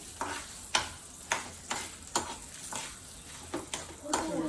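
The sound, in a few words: dried red and green chillies frying in pan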